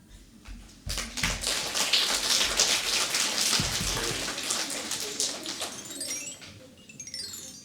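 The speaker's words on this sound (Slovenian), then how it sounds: "Pri moji Krtini spet dežuje" A steady rain sound effect patters on and on during a children's theatre play, dense and fairly loud, with a few sharp taps and a bird-like chirp near the end.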